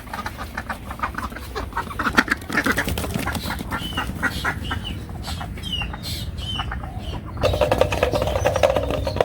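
Ducks at a village pond, several quacking and chattering birds calling in overlapping bursts close by, with a louder steady flurry of calls toward the end.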